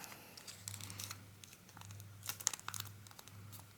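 Paper is crinkled, creased and folded for a sushi origami model, with several dry rustling bursts and crisp crackles at close range and no talk.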